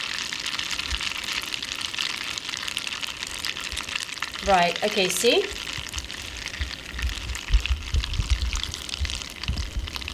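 Water boils off in a hot pan before caramelization, a steady close sizzling hiss running throughout, with a brief burst of bubbling and a few spoken words midway.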